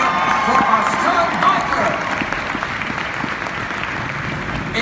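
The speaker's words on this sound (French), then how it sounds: "Je vous demande un tonnerre d'applaudissements, s'il vous plaît." A large audience claps and cheers in a sustained, dense wave of applause at the Moteurs… Action! stunt show at Disneyland Paris in 2017.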